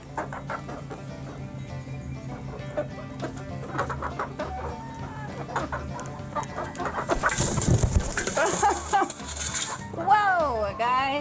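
Chickens clucking while eating treats, a steady chatter of clucks and squawks close by over a low rhythmic hum, with a burst of louder flapping and a rising squawk toward the end.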